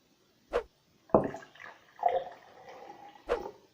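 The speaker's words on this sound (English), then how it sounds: "I'm going to take our cold water, our glass, and I'm going to fill it up to about a third" Cold water splashes from a jug into a drinking glass in a few short bursts with pauses, filling it about a third of the way, close and fairly quiet.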